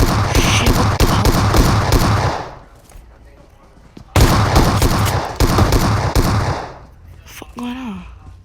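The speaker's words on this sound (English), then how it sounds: "Whoa, who's shooting at me? Who's shooting at me?" Rapid automatic gunfire in the mobile battle royale game PUBG Mobile, loud and close in two long sustained bursts separated by a short lull, with a brief voice near the end.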